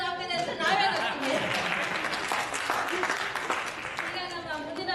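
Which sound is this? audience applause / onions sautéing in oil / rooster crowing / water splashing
audience applause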